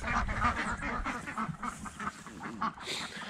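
Khaki Campbell ducks quack in a fainter, looser chorus, with short nasal calls overlapping at a moderate distance.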